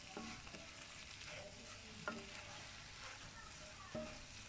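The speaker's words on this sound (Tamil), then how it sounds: "நம்ம வதக்கி வச்ச வெண்டைக்காய் இதில் சேர்த்துக்கிறேன். சேர்த்துட்டு இதையும் அந்த மசாலாவோட ஒன்று சேர்ந்து நல்லா வதங்கணும்." Okra sautés with masala in a pan, giving a quiet, continuous sizzle broken by a few sharp spoon clinks against the pan as it is stirred.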